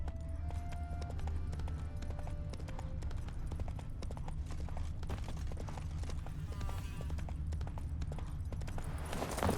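Roach the horse gallops in The Witcher 3, a steady rhythmic clatter of hooves running close and loud throughout, with low rumbling game ambience beneath and a few brief tonal chimes early on.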